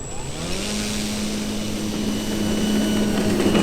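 An all-balsa Sebart Marchetti RC model plane taking off, its propeller engine holding a steady droning buzz that grows slightly louder as it accelerates along the runway.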